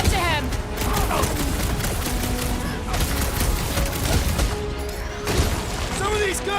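Rapid gunfire and explosions from a firefight in the space-set action game Guardians of the Galaxy, with bursts of weapon fire, booms and game effects filling the whole stretch, loud and dense, with voices talking over it.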